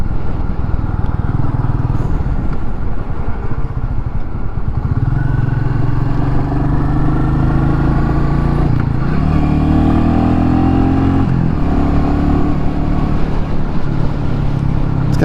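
A Royal Enfield Meteor 350's single-cylinder engine thumping while being ridden, loud and close, with steady throttle and a rise in revs partway through, wind rumble underneath.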